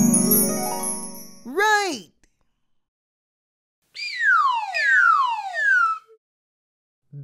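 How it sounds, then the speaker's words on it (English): Bell-like ringing tones with falling pitch sound in a children's sound guessing game, one ringing burst near the start, then a longer run of several descending chiming notes, with a voice heard beforehand. "Bell."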